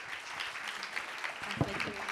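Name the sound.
audience applause for panel speakers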